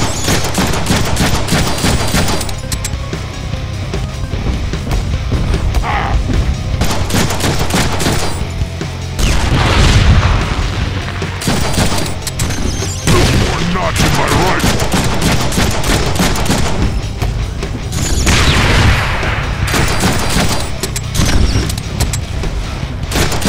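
Sustained gunfire from the Deadpool video game, a dense fusillade of rapid shots and machine-gun bursts with occasional booms, loud and continuous throughout with no pauses.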